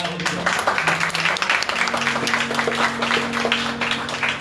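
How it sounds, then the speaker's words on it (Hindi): Congregation at Bethal Prayer House clapping together in thanks, a sustained run of many hands applauding at moderate level, with tonal voices or music humming underneath. "सबसे पहले ताली बजा के धन्यवाद करेंगे"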